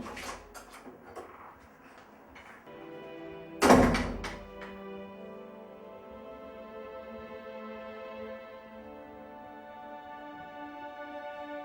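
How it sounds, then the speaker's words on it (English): A household door thumps and rattles once as it is opened, a sharp close knock followed by a sustained ringing tone in a quiet room. "Let me open the door."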